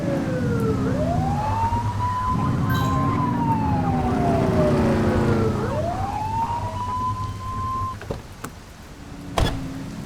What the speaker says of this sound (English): Get behind them and flip the siren to make them pull over.